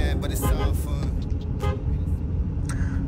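Car horn toots a few times amid steady road traffic noise, fairly close and loud.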